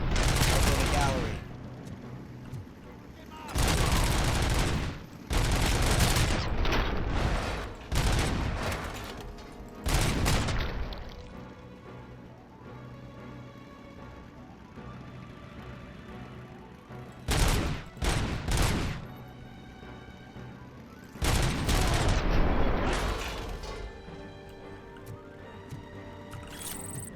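Gunfire in RoboCop Rogue City, loud bursts of automatic shooting broken by short gaps, with heavy clustered volleys near the start, the middle and the end, and quieter game sounds between them.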